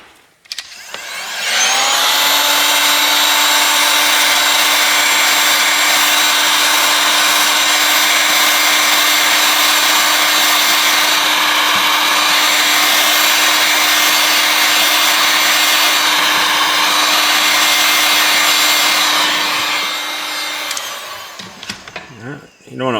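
Heat gun warming a Motorola Moto G Stylus 5G (2025) phone before a screen repair, a loud, steady whirring blast that runs for about twenty seconds, switching on and off at either end.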